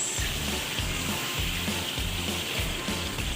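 Julienned ginger stirred into a hot coal-style kadhai, a loud steady sizzle of frying with rhythmic low scraping and stirring strokes roughly every half second, no voices.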